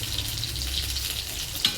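Potatoes and green banana frying in oil in a home kitchen pan, a steady soft sizzle with faint crackle running throughout, alone with no talking, a brief clatter near the end.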